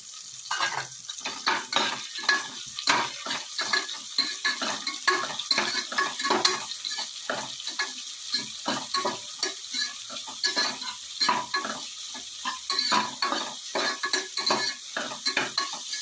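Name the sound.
onion sautéing in pan with green chilies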